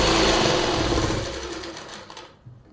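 Sewing machine running steadily as it stitches the lining of palazzo pants, a loud close whir that slows and stops near the end.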